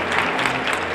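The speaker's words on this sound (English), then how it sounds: "We can clap for that." A crowd applauding at an honoree dinner, steady dense clapping throughout a brief burst with no voices.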